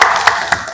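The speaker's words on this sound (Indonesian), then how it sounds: "Ya, tepuk tangan untuk Diwa." Classroom students clap their hands in a short, brisk burst of a few sharp, close claps.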